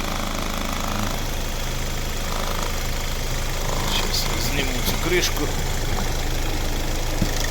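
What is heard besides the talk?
diesel car engine idling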